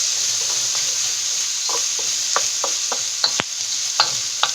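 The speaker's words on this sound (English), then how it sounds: "So I'm going to just toss these in here and get them cooking up in that wok." Vegetables sizzle steadily in a hot wok while cooking Thai drunken noodles (pad kee mao). Close, bright frying hiss continues throughout, with light scraping and tapping as the food is tossed.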